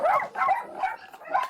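A crowd of dogs and puppies packed into a hoarder's house, some kept in cardboard boxes, gives off a run of four sharp, close yelps and barks with brief whimpering gaps between them.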